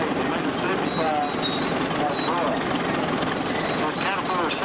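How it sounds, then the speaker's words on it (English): A large Caterpillar 70 gas-powered crawler tractor runs in an antique equipment parade, its engine a loud, steady rumble filling the whole stretch, close by, with no break. "Next we've got a Villiers Caterpillar 70 tractor. This is almost the largest gas-powered tractor Caterpillar ever made."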